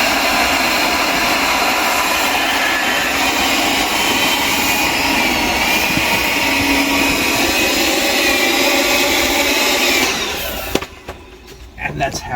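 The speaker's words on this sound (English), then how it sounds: "You get a little blower if you've got one, you fill it up with air." A small electric air blower runs steadily and loud for about ten seconds, filling a bag with air, then cuts off, leaving quieter handling noises at the end.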